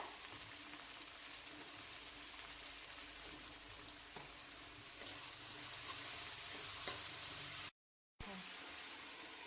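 Chopped vegetables and salt sautéing in a pan, a soft steady sizzle with occasional stirring clicks, fairly quiet, with a brief total dropout near the end.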